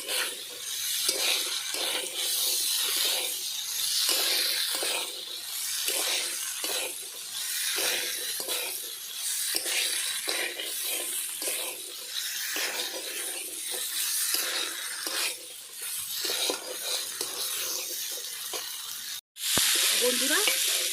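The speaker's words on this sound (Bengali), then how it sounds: "মশলার সঙ্গে আলু মতো ভালোভাবে কষিয়ে নিয়েছি" Boiled potatoes and peas are sautéed with spices in a pan, a continuous close sizzle punctuated by regular scraping strokes of a spatula, running steadily for a long stretch without speech.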